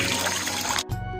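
Mountain spring water pouring steadily into a bottle, a loud close gush that cuts off briefly near the end and then resumes with a hollower filling tone.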